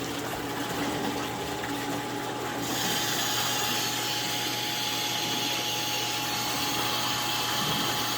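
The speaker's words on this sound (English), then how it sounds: "Turn on the pump. It's really moving." A submerged water pump runs at full flow in a low-flow pressure sensor test rig, giving a loud, steady broadband rush and hum that continues without a break and without talk.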